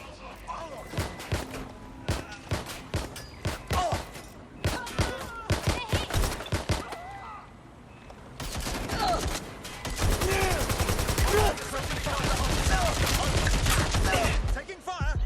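Gunfire in a shootout in the video game Watch Dogs Legion: bursts of rapid shots crackle in clusters, then a denser sustained volley of automatic fire, with voices speaking between the bursts.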